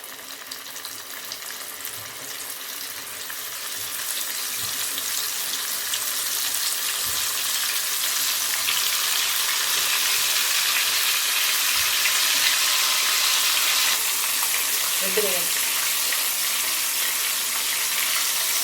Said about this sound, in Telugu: సిమ్లో పెట్టి ఒక్కొక్క చేపని ఈ విధంగా నూనెలో వదలాలి